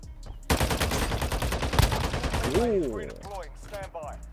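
Rapid bursts of RAM-9 gunfire in the mobile shooter Warzone Mobile, loud and close, crackle for about two seconds before a voice speaks over the fading game sounds.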